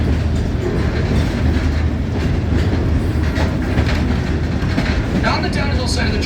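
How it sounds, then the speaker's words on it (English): Steady rumble of a tourist train riding a standard gauge adhesion railroad in Colorado, with rhythmic clacking of wheels over rail joints, loud and continuous throughout. "right now you are riding North America's highest standard gauge adhesion railroad"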